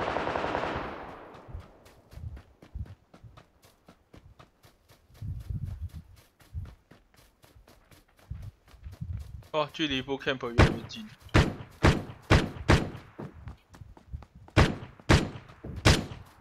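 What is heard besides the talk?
gunfire in PUBG Lite video game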